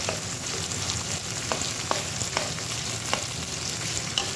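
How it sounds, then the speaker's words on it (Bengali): Sliced onions sizzle in a pan over medium heat, a constant close crackling hiss broken by occasional sharp stirring clicks, no one talking. "এই কেটে রাখা পেঁয়াজগুলো দিয়ে দেব, মিডিয়াম আঁচে লাল করে ভেজে নেব"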